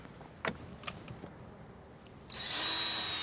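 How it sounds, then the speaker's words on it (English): A power drill pre-drilling a pilot hole in a composite deck top rail, with a few sharp clicks and taps before the drill whirs up loudly and steadily near the end. "So we're pre-drilling a little pilot hole"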